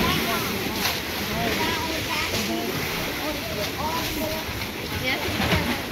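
Ocean waves surge and crash into the rocky inlet at Thunder Hole in Bar Harbor, a continuous rushing wash with wind buffeting, while people talk over it.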